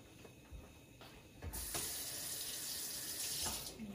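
A kitchen tap opens during dinner cooking and runs in a steady, close, hissing stream that starts abruptly and continues alone until it eases off near the end.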